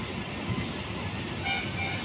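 Sairang–Kolkata Express 13126 pulls slowly out of New Farakka Junction, a steady, loud low rumble of rolling wagons filling the whole stretch, with no break and no horn standing out.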